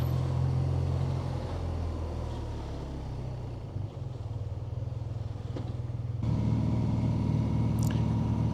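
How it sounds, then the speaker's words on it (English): Several motorcycles, including a BMW R12 NineT, rumble steadily at close range outside a busy English village, a low continuous engine drone that swells louder near the end, with no talking. "Got a few bikes behind me now."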